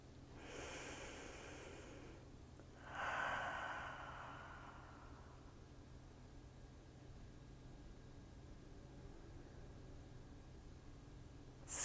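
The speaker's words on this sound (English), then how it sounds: "Take a few beautiful deep breaths here." Slow, deep breaths drawn in and let out during a quiet yoga session, two soft airy swells in the first few seconds, then near silence with faint background hiss.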